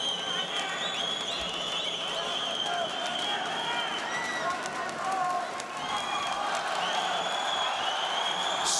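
Kazakh boxing crowd at an amateur welterweight quarter-final roars and screams continuously, a dense, loud wall of voices with a commentator talking over it.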